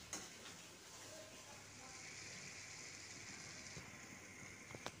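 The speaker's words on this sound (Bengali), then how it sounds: "মশলাটা কষছি মাছের তরকারি" Spice paste for a Bengali fish curry frying in a pan, a faint steady sizzle with soft scraping of a stirring spoon and a couple of light metallic clinks near the end.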